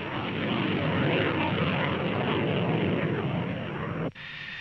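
An F-14 Tomcat jet fighter roars loudly overhead in a steady, powerful engine rush that cuts off abruptly near the end, leaving a quieter background.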